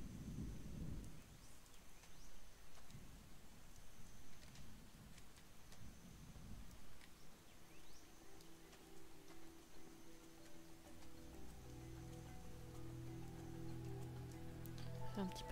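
Rain falls in the game XING: The Land Beyond as a faint, steady hiss, with soft low rumbles early on and a quiet tonal ambience rising toward the end.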